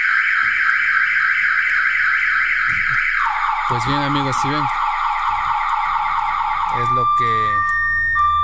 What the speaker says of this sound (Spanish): y empezó a chillar la sirena permanentemente y automáticamente se va a apagar el vehículo